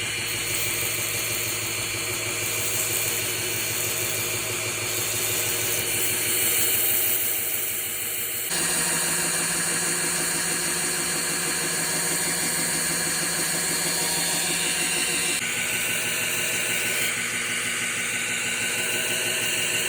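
A small sanding wheel whirs steadily against the flats of a resin knife handle, a loud continuous grinding drone with slight shifts in pitch as the piece is worked, and no talking.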